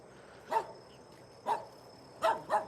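A chained dog gives four sharp barks, two spaced apart and then a quick pair, fairly close against a quiet outdoor background.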